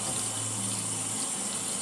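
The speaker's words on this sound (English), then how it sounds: "I'm just going to put a whole bunch of water in it." Water poured steadily into a container to wash dandelion greens makes a continuous close rushing, splashing flow that stays even throughout.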